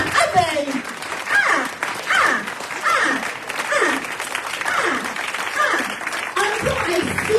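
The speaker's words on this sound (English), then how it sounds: "Until I see everybody up with a hands of applause" Audience applause at a live event in Columbus, Ohio, a steady wash of clapping sustained throughout, with an announcer's voice speaking over it near the microphone.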